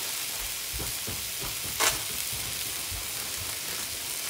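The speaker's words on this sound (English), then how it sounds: "I'm just going to fry it up" Scrambled egg frying in a pan, a steady soft sizzle throughout with a few light stirring scrapes and one brief brighter crackle near the middle.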